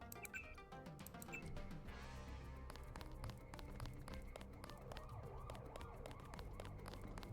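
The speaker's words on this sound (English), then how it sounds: "Why is there police sirens going off as if I did something wrong?" Police sirens wailing in the Deus Ex video game, layered over busy game ambience and music, steady and fairly loud throughout with shifting tones and no speech.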